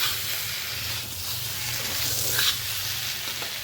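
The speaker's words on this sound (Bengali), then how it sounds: "ক্যাপসিকাম পেস্টে সুন্দর করে মশলার লগে ভাজা নিয়েছি ভালো করে" Capsicum paste frying with spices in a pan for a restaurant-style chilli egg dish gives a steady, close sizzle and hiss that runs evenly throughout, with a slight swell near the middle.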